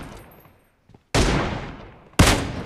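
Two sharp, loud gunshots in the mobile video game Battlegrounds Mobile India, each a sudden close blast about a second apart with a brief decaying tail, after a near-silent pause.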